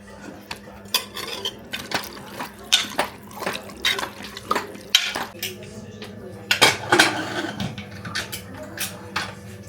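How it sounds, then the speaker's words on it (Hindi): Water is poured into a cooking pot holding crushed beetroot and vegetables, with clattering metal utensils, scraping and splashing in a series of close, uneven bursts over a steady kitchen hum. "तो अब इसके अंदर हम डालेंगे पानी, जितना मुझे सब्जियों के हिसाब से इसको बॉईल करने के लिए चाहिए बस उतना।"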